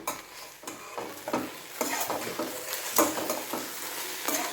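Okra (bendekai) is stir-fried in a pan, making a soft sizzle with irregular scraping strokes from the stirring, fairly faint and close.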